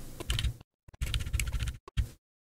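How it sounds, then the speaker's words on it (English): Bursts of fast clacking keystrokes on a computer keyboard, heard up close in short clusters separated by brief pauses, with no talking. "You can use your keyboard to do that."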